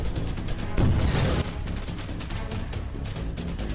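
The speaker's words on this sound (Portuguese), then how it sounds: "Tiro." A short burst of rapid gunfire goes off in the Windows Phone game Black Order 3D, followed by a continuous rattling din of shots and noise.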